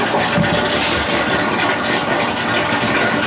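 Bourbon mash liquid drains from the grains in a steady, loud, close gushing pour that runs without a break.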